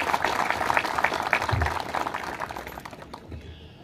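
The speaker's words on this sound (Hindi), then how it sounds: "तो मैं चाहता हूँ सबसे पहले तो आप सब लोग अपने लिए तालियां बजाएं" Clapping from police personnel gathered at a sports meet in Silvassa, a loud, busy burst of many hands that thins and fades toward the end, with some voices mixed in.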